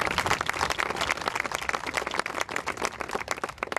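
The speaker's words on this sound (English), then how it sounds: "Please give him a nice round of applause." An outdoor cemetery reenactment audience gives a round of applause, a brief burst of close, dense hand clapping that rises and thins slightly toward the end, with no voices over it.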